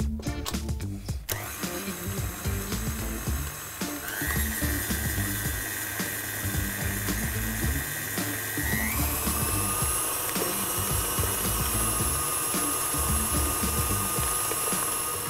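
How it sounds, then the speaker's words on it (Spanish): A stand mixer beats cream cheese in its bowl, a steady mechanical whine with a humming motor, stepping up in pitch partway through as the speed changes, running loud and continuous with no talk. "vamos a volcar de nuevo nuestro bowl en la batidora y vamos a batir por aproximadamente unos 2 minutos"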